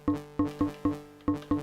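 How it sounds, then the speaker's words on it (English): Percussive FM synth hits on an Elektron Digitone 2, six short plucky transients with a hollow, slapped-plastic-bucket tone, each decaying quickly in an uneven rhythm. "There's like, you know, a little transient there, like we're slapping a little plastic bucket or something"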